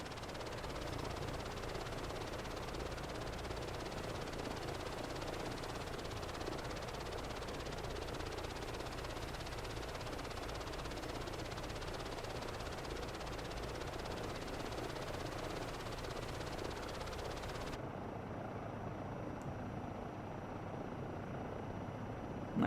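An EC-135 helicopter in Microsoft Flight Simulator 2024 drones steadily with a broad rotor and turbine hum at an even, moderate level throughout, its upper hiss dropping away near the end.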